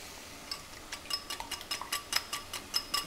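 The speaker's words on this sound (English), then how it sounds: "And now we have to whisk the egg." A whisk beating eggs with a pinch of salt and sugar in a bowl for a Thai-style stuffed omelette: quiet, rhythmic ticking clicks against the bowl, repeated steadily and close by.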